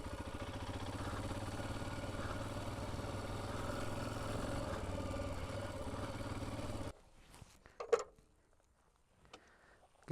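A rally motorcycle's engine runs steadily at a constant drone for several seconds, then cuts out, leaving faint clicks and a few brief knocks in near quiet.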